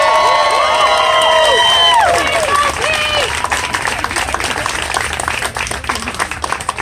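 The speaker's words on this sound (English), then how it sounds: "I think we should all get this big cheer out of the way first" A crowd at a New Milford, Connecticut mayoral campaign announcement erupts in whistles and shouted cheers, then settles into loud, sustained clapping that fills the space.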